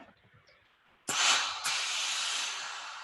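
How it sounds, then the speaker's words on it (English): A steam iron hisses loudly while pressing the head of a sleeve, beginning with a sudden burst and then a second puff, after which a steady near hiss continues to the end with no talk. "Just be careful with the steam so it doesn't burn you."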